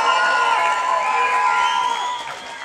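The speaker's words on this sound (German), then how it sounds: "Gib mal ein bisschen Applaus für dieses erste Mal." A crowd at a German rap battle event cheers and shouts, with loud, dense whooping and a sustained wall of voices throughout.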